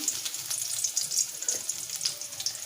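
Coarsely pounded onions fry in hot oil in a kadai, giving a faint, steady hiss with light crackles and soft stirring clicks, heard close and alone without voices.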